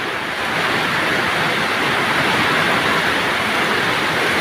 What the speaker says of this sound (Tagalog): Lumakas ang ulan. Hagupit ng ulan ngayon